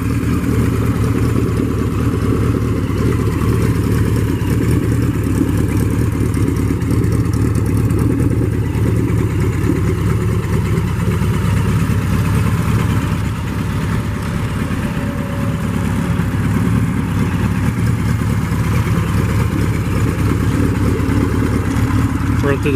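A 1974 Kawasaki Z1 motorcycle engine idling steadily up close with the choke fully off, a loud, even low rumble that holds for the whole stretch.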